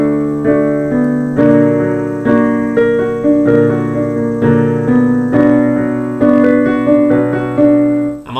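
Piano chords rock back and forth between two shapes in a song, with steady sustained harmonies struck roughly every half to one second, close and loud, with no voice.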